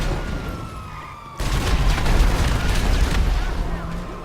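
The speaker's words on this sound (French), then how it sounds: "Vous faites des petites explosions comme ça." A sudden loud burst of explosions in GTA V breaks in after a quieter stretch, continuing as a dense rumbling, crackling barrage through to the end.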